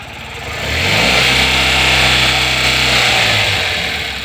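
With the accelerator pressed in neutral, a Tata Ace Gold BS6 mini truck engine revs up from idle to a loud sustained roar, holds steady, then begins to ease back down.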